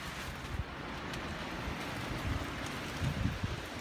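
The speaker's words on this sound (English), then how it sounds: "It's raining" Steady rain falls outdoors over a garden trellis area with fresh concrete paving, a continuous even hiss with a few soft low thumps and no talk.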